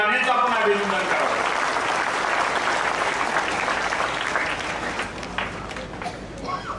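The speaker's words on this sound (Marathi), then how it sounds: "आपल्या सर्वांना विनंती टाळ्या वाजवून एकदा धैर्यशील मानेचं आपण अभिनंदन करावं" A crowd at a political gathering breaks into sustained, loud applause to congratulate someone, the clapping thinning slightly toward the end while a voice carries on over it.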